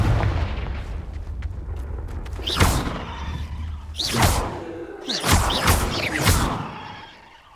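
Fire-spell blasts in the Hogwarts Legacy video game: several loud whooshing bursts with booming impacts, coming in quick succession over a rumbling battle background.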